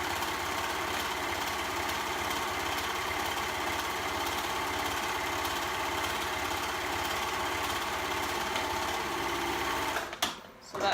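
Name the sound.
sewing machine sewing fabric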